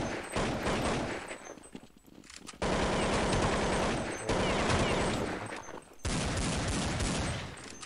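Rapid gunfire from Counter-Strike deathmatch shooting practice against bots, with loud, dense bursts of automatic fire in three long stretches separated by brief lulls, and no talking.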